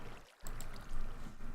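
Water pouring and trickling into tanks in a modded Minecraft skyblock world, a continuous splashing stream with a brief dip near the start and then steady gurgling.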